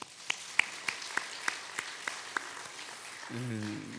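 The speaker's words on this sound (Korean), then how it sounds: "16에서 22 여전도에 우리 격려회 박수 한번 부탁드리겠습니다." Scattered, sparse clapping in a church congregation during a Wednesday evening service, a handful of sharp individual claps spaced out over a few seconds, then a voice begins speaking near the end.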